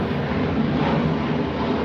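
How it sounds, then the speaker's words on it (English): A fixed-wing airplane passes low overhead near an airport, producing a steady, loud broadband engine roar that fills the whole moment without a break; no one speaks. "God, airplane's loud."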